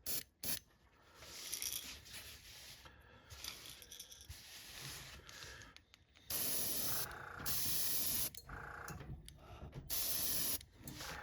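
Airbrush spraying paint onto a shad fishing lure: a series of short, sharp hissing bursts of varying length separated by quiet gaps, close and fairly loud.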